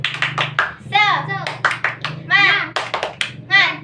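A classroom group performs a rhythmic clapping chant, sharp claps interleaved with voices chanting in time, close and loud with irregular bursts between the spoken syllables.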